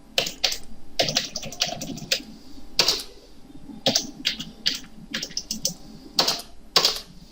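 A computer keyboard is typed on in irregular bursts of crisp, close key clicks separated by short pauses, with faint room hum beneath and no voices.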